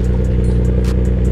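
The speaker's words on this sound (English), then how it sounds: "Do the rev thingy." A BMW M4 F82 with stage 2 bolt-ons, charge pipe and J pipe, built as a GT4-style track car, idles with a deep, loud, steady engine rumble close by.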